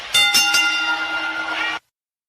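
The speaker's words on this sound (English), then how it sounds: "Where's my bell?" A metallic bell is struck about three times in quick succession, ringing with bright sustained overtones before cutting off abruptly, loud and alone.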